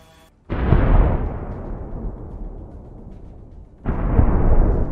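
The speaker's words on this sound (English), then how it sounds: "An explosion of incredible force." A Russian armored vehicle struck by a drone explodes in a sudden, loud, booming blast that rumbles and slowly decays, followed a few seconds later by a second heavy detonation.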